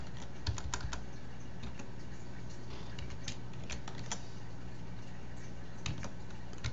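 Keys clack on a computer keyboard as a password is entered at an Ubuntu terminal, a quiet run of irregular taps and clicks that comes close and stands alone without speech.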